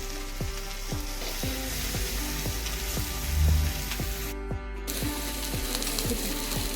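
Fish wrapped in banana leaf frying on a tawa over medium gas, with a steady close sizzle and crackle and occasional scraping taps running the whole way through.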